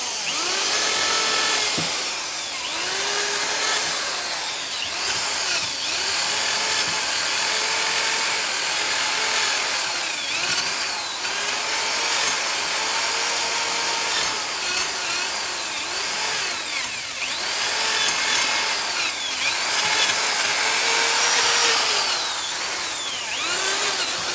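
A power drill spins a wire wheel brush against brake parts, knocking out brake dust, whining and scraping continuously at close range, with pitch rising and falling as pressure changes.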